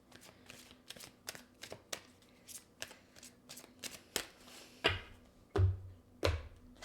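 Angel oracle cards are shuffled by hand in a run of quick, close riffling taps and soft slaps that grow louder and heavier toward the end, with no talking.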